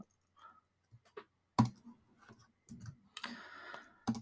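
Computer mouse clicks at a desk: a handful of sharp, close, dry taps spread irregularly across a few seconds, with quiet pauses between them.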